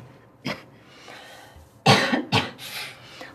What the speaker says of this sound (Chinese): 你这咳嗽越来越重了